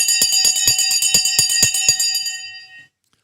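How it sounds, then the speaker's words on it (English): A stock market opening bell rings in about eight quick, loud, evenly spaced strikes, then its metallic ring fades away into silence. "The bell has just gone as well."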